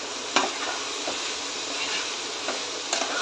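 Eggs and vegetables for egg fried rice sizzle in a pan over high flame, a steady close frying hiss broken by several brief scraping strokes of a stirring spatula.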